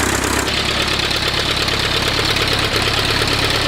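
An engine from a 1912 Taube F aircraft runs at a loud, steady drone close by, with a throbbing, knocking pulse and rushing air throughout, and no voices.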